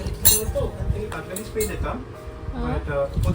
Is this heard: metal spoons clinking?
yes